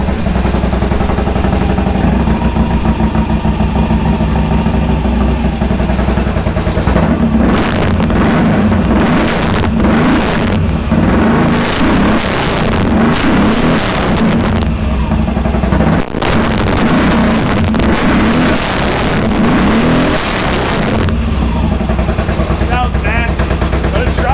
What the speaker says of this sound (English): So I'm gonna try to give it a rev.